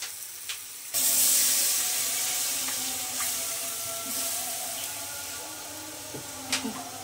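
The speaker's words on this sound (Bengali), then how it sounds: "এখানে আমি আরেকটু পানি দিয়ে দেবো" Water is poured into a hot kadai of fish head masala, setting off a sudden loud hiss and sizzle that slowly fades into a softer simmering crackle.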